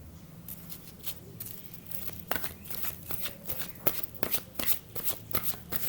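Tarot cards are shuffled by hand in a quiet room, giving a run of crisp, close riffles and slaps that build in pace, with no talk.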